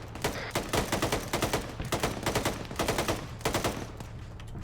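Rapid gunfire rattles in the Arma 3 military shooter during a US versus Iran battle. Repeated automatic bursts crack in quick rhythmic clusters, fairly close and sharp, with brief pauses between volleys.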